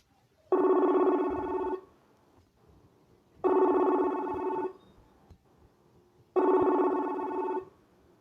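A telephone rings during a callback on a phone line, three long electronic ring bursts separated by pauses, clear and fairly close with no talking.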